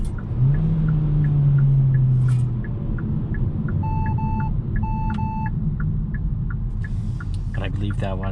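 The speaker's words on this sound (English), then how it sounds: "I believe that was the emergency braking" A 2022 Hyundai Kona N Line's emergency braking warning sounds as two short bursts of repeated beeps over the steady rumble of the SUV's engine and road noise from inside the cabin, followed by a brief engine rev.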